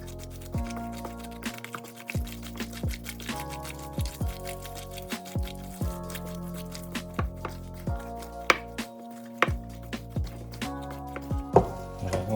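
Pheasant terrine filling is mixed by hand in a bowl, with soft, irregular squelching and slapping over a steady background of sustained music tones.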